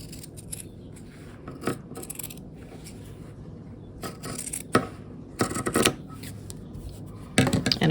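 Scissors snip through doubled fabric for bookmarks in several short, close rasping bursts with quiet pauses between them, the last cuts coming louder and quicker.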